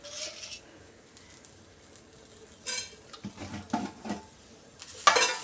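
Whole spices, including black peppercorns, roasting in a pan over a low flame for a Kerala-style fish curry, with quiet stirring scrapes and faint sizzling that rise into louder bursts of clattering near the end.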